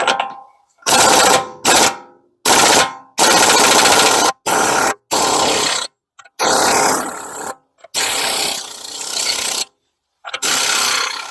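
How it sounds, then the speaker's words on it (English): A pneumatic air impact gun hammers at a spindle axle nut on a BMW X5 E70 front hub, firing in loud, rapid bursts of rattling impacts with short pauses between them, very close. "I have my air gun all ready to go, so I'll get started."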